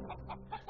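Animated chickens cluck in a few short, soft bursts, with quick rhythmic clucks spread across under a second.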